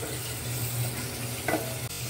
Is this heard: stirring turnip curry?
yes